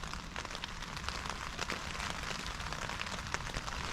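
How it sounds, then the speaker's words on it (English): Rain falls steadily around a wild camp during a bike tour in Sweden, a dense close patter with scattered sharper drops and no speech. "And the rain was going to stop"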